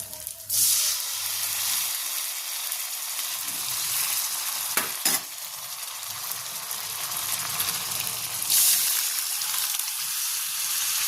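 Cooked dal already mixed with salt and turmeric tipped into a hot pan, sizzling and frying steadily throughout, with a brief stir or clatter near the middle, for a Bengali-style vegetarian dal with jackfruit seeds and pumpkin greens.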